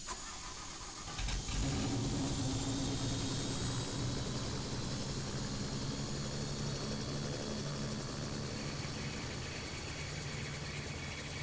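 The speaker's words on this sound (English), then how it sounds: "While you get the briefing, you should turn your helicopter on." A video game helicopter engine starts up in a flight simulator and settles into a steady, loud whine and rotor drone that carries on without a break.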